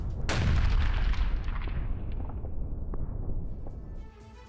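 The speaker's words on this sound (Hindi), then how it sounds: "रूस ने हॉवित्जर से की भारी गोलाबारी" Heavy howitzer artillery shelling sounds as one loud, deep boom that rolls into a long rumbling decay. Faint crackles follow in the distance, and no voices are heard.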